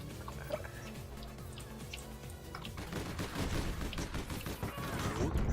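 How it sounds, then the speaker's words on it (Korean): Rapid video-game gunfire, dense bursts and a fusillade building louder toward the end, heard alone without talk. "아, 한 발밖에 못맞았어 차를 너무 많이 쐈다 내가"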